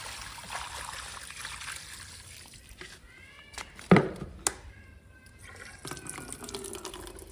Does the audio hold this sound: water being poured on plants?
yes